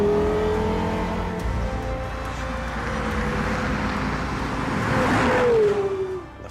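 A Porsche Carrera GT engine revs and holds a high tone, then sweeps down in pitch near the end as the car passes, loud against background roar with no speech.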